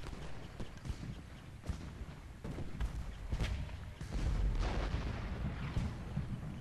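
Cannon fire from artillery batteries in the Civil War battle game Ultimate General: Gettysburg, a string of booming shots and rumbling impacts at varying distance over continuous battlefield noise.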